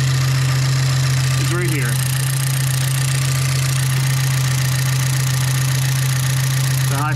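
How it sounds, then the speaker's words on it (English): A car engine idles with a constant low hum and a fine clicking tick from the fuel injectors and high-pressure fuel pump, heard close while someone talks over it. "here is the engine running"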